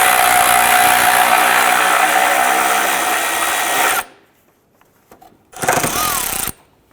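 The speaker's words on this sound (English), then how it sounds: "on the strut tower here, I'm going to remove this 10mm bolt" A power tool whirs loudly and continuously as a 10mm bolt comes off the strut tower of a 2001–2005 Honda Civic, then cuts off into near silence before one more short, loud burst.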